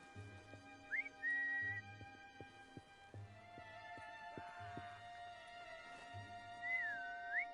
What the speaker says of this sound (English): they could also hear that whistle that the enemy in the previous attempt also heard